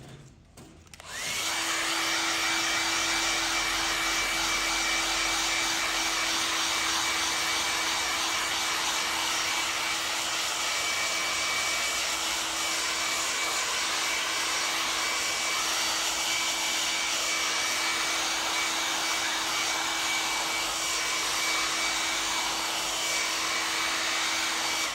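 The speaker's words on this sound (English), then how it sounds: "Go over that with the hairdryer." A hair dryer switches on and blows continuously over a dyed leather jacket with a steady, loud whirring hum, close and unbroken, with no voices.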